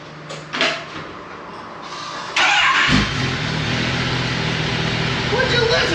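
A stock 2023 Kawasaki ZX-10R sport motorcycle engine on a dyno fires up and then runs loud and steady, revving with a rough, continuous roar after a few brief knocks.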